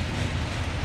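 A Norfolk Southern northbound coal train passes close by in Marion, Ohio, a loud continuous rumble with rolling wheel clatter filling the moment.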